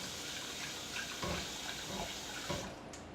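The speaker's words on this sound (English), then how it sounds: "I'm going to rinse the rice." Rice in a pot is rinsed under running tap water, making a steady, soft gush and splash with a few louder sloshes as the grains are stirred, and no talking.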